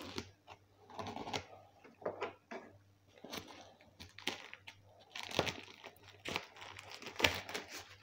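A paper cutter slices open a bubble-wrap envelope holding an action camera, giving irregular close scrapes, crinkles and tearing rustles in uneven bursts.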